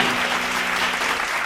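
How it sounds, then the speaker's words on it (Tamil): Church congregation applauding during a sermon, dense continuous clapping from many hands that fills the space evenly, close and steady with no talk over it. "கைத்தட்டுங்க உதவருக்கு ஆமென்."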